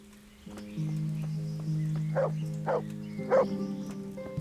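A dog in the video game Kingdom Come: Deliverance gives three quick barks over a low steady hum and tonal background music, sounding slightly synthetic and mid-distance.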